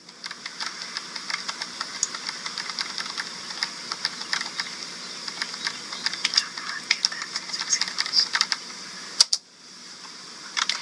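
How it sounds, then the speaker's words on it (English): A computer keyboard is typed on rapidly while a document is written, a continuous stream of fast light clicks under a steady hiss, stopping briefly near the end. "And then you may begin typing your document."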